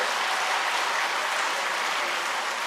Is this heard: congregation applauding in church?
yes